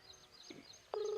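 A phone call being placed to an uncle: a short faint tone pattern, then a loud sustained electronic ring or dial tone starting near the end, with quiet room noise before it.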